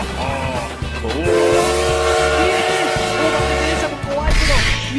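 A Plarail Big Thomas toy train runs on track in a park, giving a loud, steady rhythmic clicking rattle with high whistle-like tones, while a voice sounds over it.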